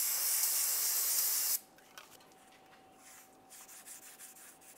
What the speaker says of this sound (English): Spray it directly on the rag and then wipe this down.